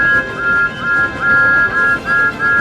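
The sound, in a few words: steam locomotive whistle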